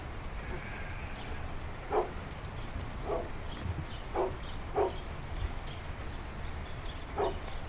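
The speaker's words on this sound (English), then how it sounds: "So Bella's barking" A Great Pyrenees dog on a farm barks six times in single evenly spaced woofs, heard at a distance through steady rain and background noise.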